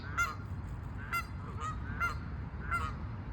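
A goose honking outdoors in the morning, four or five loud, evenly spaced honks over a soft background hum.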